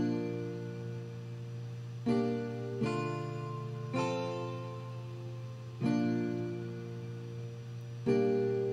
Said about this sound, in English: So by itself, the first guitar sounds like this.